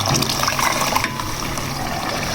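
Chickpea cooking water poured into a pan of fried chickpeas while making Lahori chanay, a steady close gushing splash that runs continuously for a couple of seconds.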